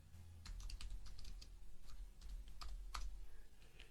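Someone types on a computer keyboard, a quiet, irregular run of soft key clicks heard close up with no talking.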